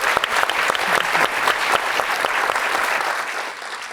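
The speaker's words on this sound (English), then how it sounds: "let's give one more round of applause to our panel here tonight" An audience at an evening panel discussion on journalism gives a round of applause, a dense, steady clatter of many hands from start to finish that thins a little toward the end.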